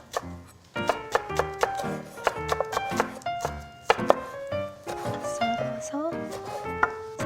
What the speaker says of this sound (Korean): 그냥 이렇게 송송 썰어주시면 됩니다.